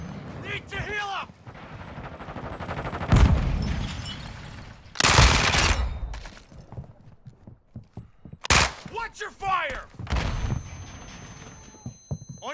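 A grenade blast and bursts of gunfire in the video game Call of Duty: several loud, sharp explosions and rattling shots separated by quieter gaps, with shouted voices in between.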